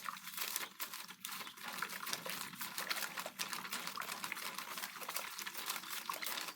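A plastic ration spoon stirs borax powder into water to dissolve it: faint, continuous swishing with light, irregular clinks and scrapes against the container.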